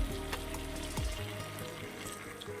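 Turmeric, ginger and cumin powder sauté in oil for a katla fish curry with okra and potato, making a close, steady sizzle with a brief stirring scrape near the start.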